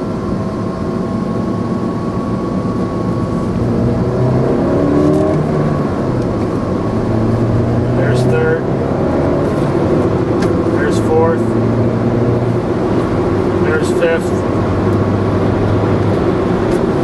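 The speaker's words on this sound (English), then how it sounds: "so I'm going to slip it into neutral right now, and I'm going about 55 miles an hour" A manual-transmission car cruising at about 55 mph, its engine a steady continuous drone with road and wind noise throughout and brief rising rev bursts, while someone talks over it.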